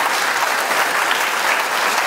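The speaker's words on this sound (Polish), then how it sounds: "wielkie, wielkie brawa dla całego zespołu" A concert audience gives a folk ensemble of senior women singers and their band a round of applause, a dense, continuous burst of clapping from many hands, loud and even throughout.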